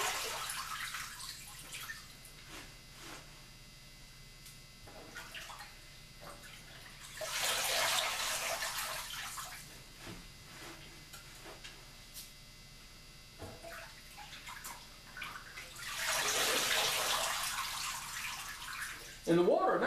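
Running water rinsing turnips in a sink or basin, two louder rushing bursts of tap flow between quieter stretches of splashing and handling, steady and close.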